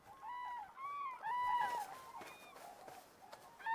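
Wintering cranes in Spain's Dehesa call in a loose flock, with repeated loud bugling trumpets overlapping one another at middle distance and no talking.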